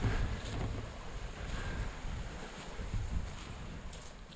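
Wind blows by a river on a ski and Tenkara fly-fishing day, a steady low rumble of gusts buffeting the microphone with a faint wash of moving water beneath.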